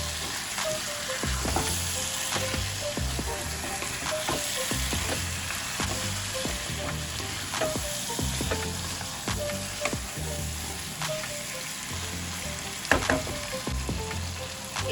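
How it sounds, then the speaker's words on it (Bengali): Chicken pieces frying in a pan of sizzling, oil-released spiced masala for Kashmiri chicken masala, a loud continuous sizzle broken by repeated stirring scrapes and clacks. "মশলাটা কষানো হয়ে গেছে, মশলা থেকে তেল বেরিয়ে এসছে। এবার আমি এর মধ্যে মাংসটা দিয়ে দেবো।"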